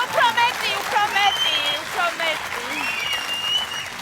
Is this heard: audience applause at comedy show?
yes